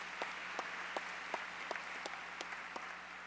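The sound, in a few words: audience applause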